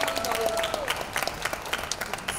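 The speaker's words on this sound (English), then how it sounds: "A big round of applause." An audience at a makeup show claps in a lively burst, with many close, crisp individual claps in an uneven rhythm and a voice briefly heard at the start.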